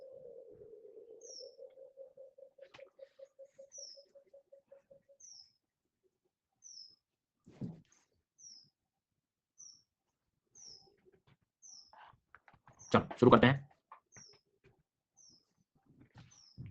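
A small bird gives short, high chirps at a regular, unhurried pace, faint and thin over near silence, while a voice briefly speaks and a few soft knocks and rustles come through.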